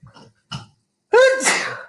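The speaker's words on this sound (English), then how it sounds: "I feel like I'm going to sneeze" A person gives a single loud sneeze after two short, quiet breathy lead-in sounds, the sneeze bursting sharply and then trailing off.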